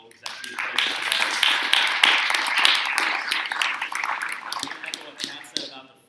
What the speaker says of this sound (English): how about a round of applause for Mark and the whole executive team?